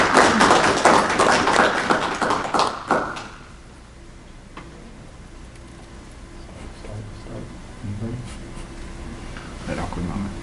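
Audience applause for a panel at a university liberal arts event, dense clapping for about three seconds that fades into quiet room tone with scattered soft taps.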